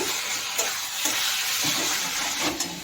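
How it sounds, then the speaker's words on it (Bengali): Salted Hilsa fish-head and taro-leaf curry stirred in a pan, a steady close sizzle and hiss with soft scraping strokes of the spoon repeating every half second or so. "এবার আমি একটু নাড়িয়ে নিচ্ছি"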